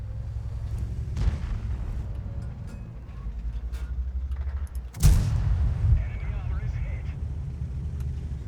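A tank cannon fires in the video game World of Tanks, playing the FV4202, one sharp loud boom over a steady rumbling engine drone, with an earlier fainter blast and someone talking throughout.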